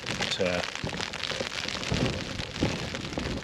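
Steady rain falls on a tent while wild camping at Stickle Tarn in the Lake District, making a dense, even patter throughout, with a few brief voiced sounds mixed in.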